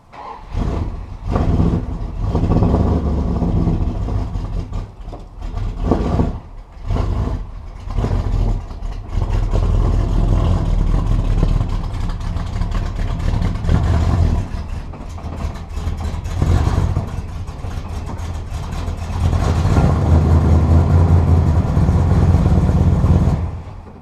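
Dodge Dart engine revving hard during burnouts after a leaf spring install, a loud continuous roar that surges and dips through repeated throttle bursts, building to a heavier sustained rev near the end.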